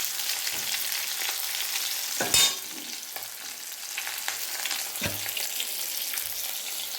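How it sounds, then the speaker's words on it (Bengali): Fish frying in hot oil in a home kitchen, a continuous close crackling sizzle with a sharp clatter of a utensil midway and another knock later, no voices over it. "একটু লাল লাল করে এটা ভাজতে হবে"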